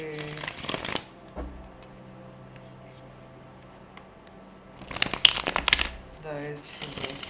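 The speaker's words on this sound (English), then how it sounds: "the pre-shuffle oracle in the previous energies" Tarot cards are shuffled in two bursts of riffling and flicking, one at the start and a louder one near the end, with a quieter stretch in between. A voice speaks between the bursts.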